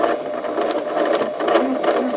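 A sewing machine stitches curved pieces of quilt fabric together, running at a steady, close, fairly loud whir with a rapid needle rhythm for about two seconds, with no talking.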